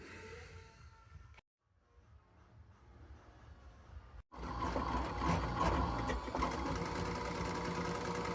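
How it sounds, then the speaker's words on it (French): Sewing machine stitching two layers of fabric together for car panel upholstery, running in a steady close whir that stops briefly twice, then resumes louder and denser; a faint voice is heard in the background. "il n'y aura plus qu'à coudre directement le tissu, les deux tissus ensemble"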